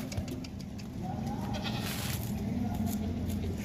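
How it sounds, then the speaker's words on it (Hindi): Goats at a livestock market in Pakistan give a few faint, scattered bleats over a steady background murmur of the market. "मोटे ताज़े बकरे, सेहतमंद बकरे हैं"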